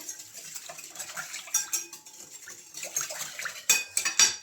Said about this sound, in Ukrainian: Розмішуємо гарно, аби, воно, аби дріжджі розчинилися.